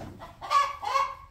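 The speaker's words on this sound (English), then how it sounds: "the chickens have taken to a new spot here in the corner." Chickens on a small farm give two short, loud clucking honks close by, with a faint squawk before them.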